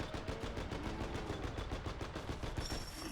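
R-101 Carbine from Titanfall firing in Fallout 4, a sustained rapid automatic burst of close, loud, evenly spaced shots running throughout without pause.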